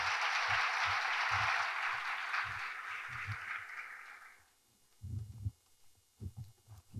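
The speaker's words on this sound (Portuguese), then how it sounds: "recebam com uma salva de palmas no stage o Thomas Hammer da Nubank" A conference keynote audience claps to welcome a speaker on stage, dense applause that fades after about four seconds, giving way to scattered thumps and low room noise.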